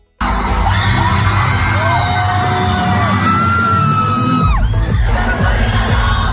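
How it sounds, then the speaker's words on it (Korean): Fans of a K-pop group at a concert in Brazil scream and shout in a loud, sustained roar, high-pitched cheers rising and sliding over a thick crowd din. "브라질 현지 팬들은 공연장을 뚫을 듯 한 함성으로 그녀들을 환영했는데요"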